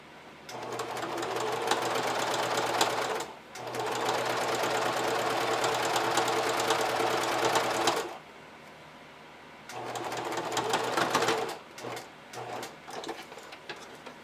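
A sewing machine stitches a gusset seam on a pair of panties, a close steady whirring hum in long runs with short pauses between bursts.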